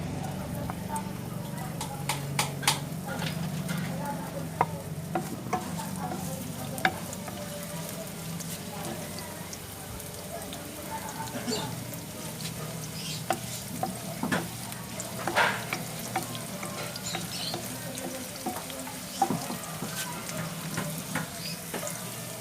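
Onions sizzle in oil in a frying pan while being stirred, giving a soft steady crackle with scattered scraping and clicking taps of a utensil against the pan, fairly close and quiet.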